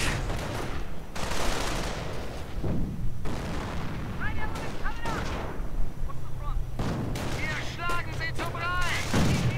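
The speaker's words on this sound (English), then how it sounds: "Mortar doing what it can." Repeated mortar and gunfire blasts in a World War II strategy game battle, sharp booms with rattling shots and whistling effects, loud and dense over a steady background.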